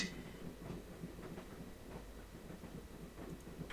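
Inside a moving train in the Broken Sword adventure game, a quiet, continuous rumble with soft rhythmic rattling of the carriage rolls on without talk.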